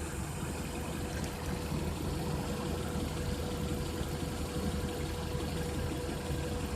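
A 1993 Honda Accord 2.2L wagon engine, with its balance shafts removed, idles at a steady low rumble, a continuous faint, even drone with a slight vibrating texture and no voices.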